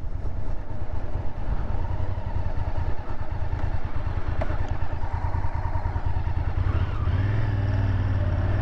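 A 1998 Honda VTR SuperHawk V-twin motorcycle rumbles steadily while riding, with a loud, close, throbbing engine drone and wind noise throughout and a slight change in pitch near the end.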